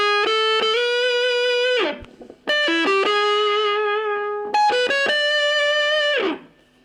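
Electric guitar with distortion playing a lead riff, three sustained bending phrases with picked notes, loud and close, each ringing out before fading.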